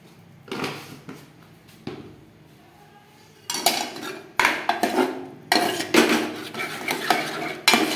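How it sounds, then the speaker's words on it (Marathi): A spoon mashes spinach and gram flour in a pan, giving repeated metallic scraping and clinking strokes that start sparse and grow louder and busier, heard close and alone. "आता बारीक हाटून घ्यायचं चम्मचने।"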